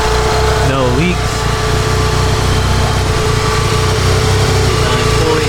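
A Mitsubishi 4G63 engine from an Evo or DSM, freshly assembled with GSE 1 cams and beehive valve springs, runs at a steady, slightly rough idle close by. The loud mechanical drone continues unbroken throughout.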